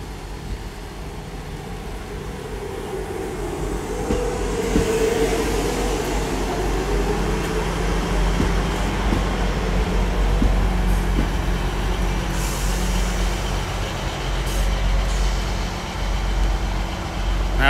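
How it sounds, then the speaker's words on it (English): A Class 158 diesel train, unit 158798, pulls into Barnstaple station in heavy rain: a broad, steady mechanical rumble that swells slightly as it nears, with faint squeals over the hiss. "As that train comes in"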